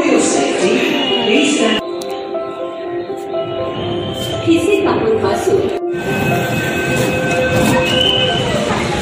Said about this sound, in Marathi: तर आमची ट्रेन आलेली आहे